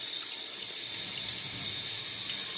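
Water runs steadily from a tap into a sink to soak a shaving brush, a constant hissing splash at moderate level with no talk.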